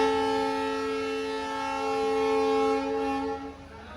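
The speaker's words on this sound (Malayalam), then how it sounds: "കൃത്യം 4:20 നമ്മുടെ വണ്ടി നിലമ്പൂർ റോഡ് റെയിൽവേ സ്റ്റേഷനിൽ നിന്ന് എടുത്തിരിക്കുകയാണ്" A Nilambur Road–Palakkad passenger train's horn blares as it departs the station, a long, loud sustained tone that holds for about three seconds and then fades, with no talking.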